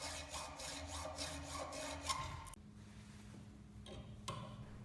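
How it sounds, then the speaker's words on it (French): A hacksaw cuts through a metal bumper spacer for a Peugeot 205 with quick, rhythmic rasping strokes up close. The sawing stops partway through, leaving quieter handling noises and a few faint scrapes. "Avec une scie à métaux, on va couper là où on a fait nos marques"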